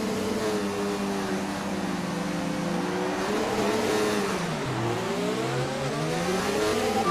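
Formula 1 race cars drive a formation lap. Several engines overlap with rising and falling whines, loud and close, and one car's pitch sweeps down and back up as it passes.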